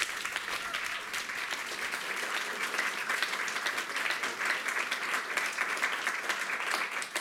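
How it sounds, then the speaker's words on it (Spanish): Steady, dense audience applause at an Argentine music night at a chamber festival in Helsinki, many hands clapping evenly and filling the room without a break. "fuerte el aplauso, por favor"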